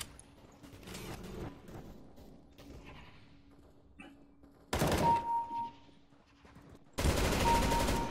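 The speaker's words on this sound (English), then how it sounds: "Machine gun." Counter-Strike: Global Offensive machine gun fire comes in two loud bursts of rapid automatic shots, each lasting about a second, following quieter thumps and clatter from the game.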